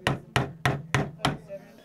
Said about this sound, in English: these North Carolina college students are hammering,